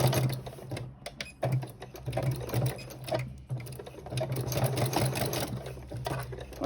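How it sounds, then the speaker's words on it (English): A sewing machine runs steadily while stitching binding onto a bag with pins still in the fabric, its fast needle rattle continuous and close, with brief pauses and restarts and no voices. "We are sewing over pins, which I know that is not recommended"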